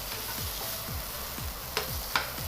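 Chicken pickle meat fries in a pan while someone stirs it, making a steady sizzle with repeated scraping strokes about every quarter second and a couple of sharper clinks near the end. No one talks.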